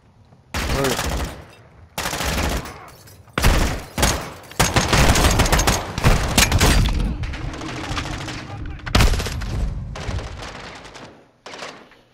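Loud, dense bursts of automatic gunfire from the first-person shooter Modern Warfare 2 Remastered, firing in long, near-continuous volleys with brief gaps, mixed with shouted voices.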